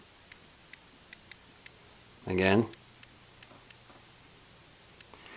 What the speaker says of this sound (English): So it's a little clicking sound.